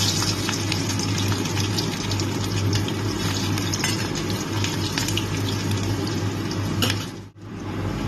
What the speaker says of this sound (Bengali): আমি এর মধ্যে থেতে নেওয়া রসুনগুলোকে দিয়ে দিলাম